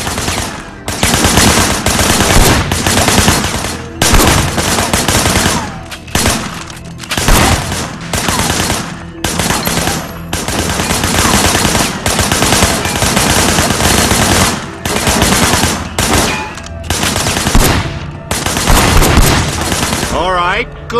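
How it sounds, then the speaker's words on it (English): Heavy gunfire erupts in the video game Sleeping Dogs, with dense bursts of rapid automatic shots repeating in loud, closely spaced volleys that pause briefly between them. "I want you to put some bullets in a few things."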